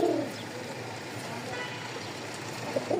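Pigeons kept in pairs, one pair jet black and one pure white, giving soft low coos at the start and again near the end over a quiet background hum.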